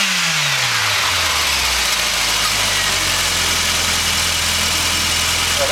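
Car engine idling close by, a steady low rumble with a brief falling rev at the start, running without pause and no voices.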